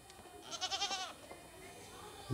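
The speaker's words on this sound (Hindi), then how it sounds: "हाय बकरी हाय बोल" A goat bleats in a quick wavering burst of several pulses, close and fairly clear, on a rural homestead near a pond and fields, with faint background noise and a brief thump at the end.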